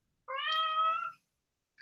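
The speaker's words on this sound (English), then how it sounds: "There's my cat." A house cat gives one clear, drawn-out meow close by, followed by the start of a second short call, in an otherwise quiet indoor room.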